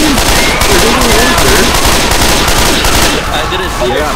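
Rapid, loud bursts of automatic gunfire fill a hectic Left 4 Dead 2 game fight, with dense overlapping shots and shouting voices mixed in throughout.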